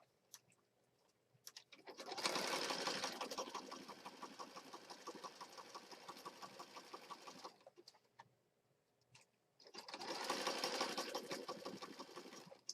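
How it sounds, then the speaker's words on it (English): An electric sewing machine stitches down the edge of a junk journal page in two sustained, close, whirring runs of rapid needle strokes, separated by a short pause with light clicks. "When I sew down here, I'm going to sew this down."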